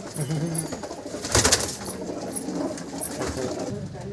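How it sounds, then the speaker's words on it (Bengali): Pigeons in a loft of high-flying breeds coo softly and repeatedly against a steady background chatter of birds, with a louder burst of fluttering or calls near the middle. "এই হচ্ছে একটা পায়রা"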